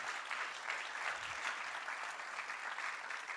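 Faint, sustained applause from an audience at a speaking event, a dense even patter of many hands clapping without pause.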